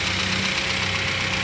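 A rebuilt Honda CR-V petrol engine after an overhaul idles at about 1000 rpm, giving a steady mid-pitched hum with a faint rhythmic knock, close and continuous with no talking.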